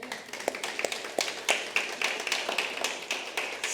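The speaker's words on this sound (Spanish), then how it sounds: "Demos un aplauso a Cristo por esto." A patter of scattered hand claps, fairly close, irregular and thin like a small group applauding, with no voices over it.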